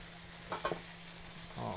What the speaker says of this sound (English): All right, guys, and then you're gonna mix that in.